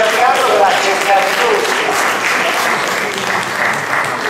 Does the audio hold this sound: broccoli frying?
no